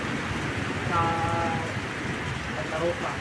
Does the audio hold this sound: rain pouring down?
yes